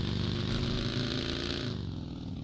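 Buggy engine in PUBG Mobile, a steady mid-pitched motor drone with a rattling edge, sustained and fairly loud throughout before easing slightly near the end, with no talk.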